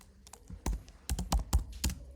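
Someone types a name on a computer keyboard while creating an email account, a quick irregular run of about seven or eight distinct key clicks, close and clear with no talking.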